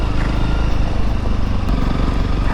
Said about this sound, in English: Let the engine braking do its thing.